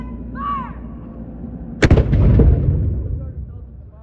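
A historic cannon fires at a Halifax historic site, one sharp loud blast followed by a rolling rumble that slowly fades, after a shouted voice.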